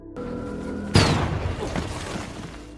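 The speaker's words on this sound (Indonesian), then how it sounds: "kaki O'Brien harus tertembak sementara Swigger terkena ledakan granat" A grenade explodes in a war film: one sudden loud boom cuts through a steady tone, followed by a rumbling, crackling decay that fades over about two seconds.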